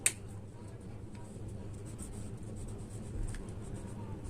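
Faint scratchy strokes of writing on a board in a classroom biology lesson continue steadily and quietly, with a short tap at the start and soft room noise throughout.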